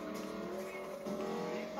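A race car in Need for Speed Payback drives with a sustained engine drone and a hint of tire noise, steady and fairly close throughout the short moment.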